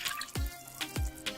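A glass of water poured into a cooking pot of potatoes, meat and carrots, heard as a few short splashing pours and drips, close and fairly soft, with no talk.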